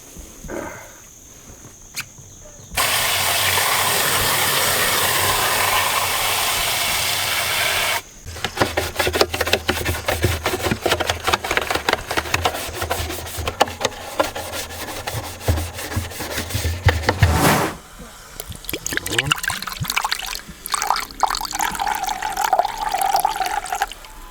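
A dirty 5-gallon bucket is scrubbed and rinsed out: a steady rushing of water for several seconds, then irregular rubbing and scraping strokes against the plastic, loud and close, with no voices.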